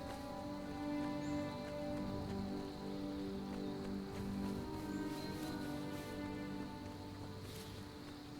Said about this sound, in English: It is nice to walk in the rain.